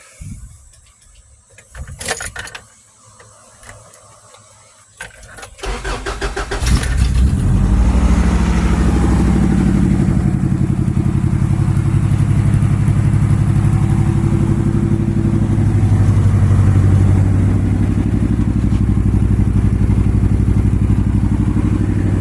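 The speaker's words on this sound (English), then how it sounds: "we fire it up. This is what it sounds like." Cold start of a 4-cylinder truck fitted with true dual exhaust and dirtbike mufflers: a few clicks and cranking, then the engine catches and settles into a loud, steady, rumbling idle, heard up close.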